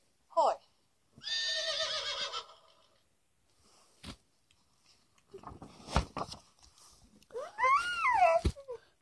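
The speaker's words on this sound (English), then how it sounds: "The horse gallops in the field." A horse lets out a loud, close whinny near the end, preceded by a short bleat-like call and scattered knocks and thumps with gaps of quiet between them.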